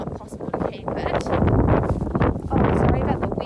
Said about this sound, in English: Oh, sorry about the wind.